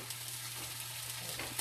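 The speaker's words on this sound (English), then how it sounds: "You can hear that nice sizzle" Food sizzles steadily in a hot grill pan, a continuous hissing crackle with no voices over it, close and moderately loud.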